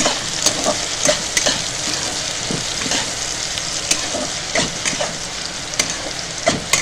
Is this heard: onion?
yes